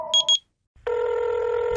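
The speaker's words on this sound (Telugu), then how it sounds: "రింగ్ అవుతుంది." A telephone ringing: two short, bright electronic tones, a brief silence, then a sustained ringing tone, heard close and clear without any talk.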